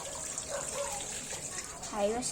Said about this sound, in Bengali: এখন ঢালা হচ্ছে ম্যাগিটা, চাও চাও